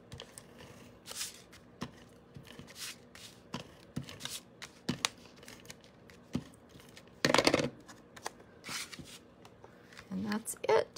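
Layered die-cut paper pieces pressed and attached to a card base, giving irregular close rustles, taps and papery handling noises, with a louder crinkling burst partway through and more shuffling near the end.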